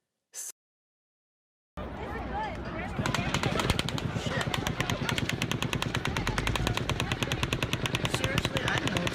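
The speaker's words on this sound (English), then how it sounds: "Now listen how you can tell it's one shooter compared to the rest before. You can hear it on the rhythm of the shots fired." Recorded gunfire at the Las Vegas shooting, a long sustained burst of rapid automatic shots in a steady rhythm, loud and echoing, starting after a short silence and continuing to the end.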